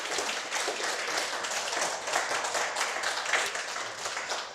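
Audience applause at a Korean healthcare professionals' day commemoration ceremony, a steady wash of many hands clapping together at moderate distance, sustained without a break and with no voices over it.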